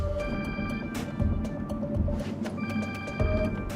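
A phone rings in repeated electronic bursts, a bright tonal trill starting and stopping over a rumbling background with occasional clicks.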